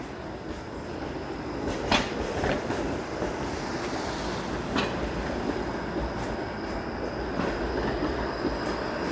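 A Toronto streetcar rolling along Queen Street East in Leslieville on a Saturday evening, a steady rumble of wheels on rails with brief metallic squeals and clanks, heard from the street amid outdoor traffic noise.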